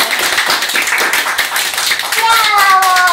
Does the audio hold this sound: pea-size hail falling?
no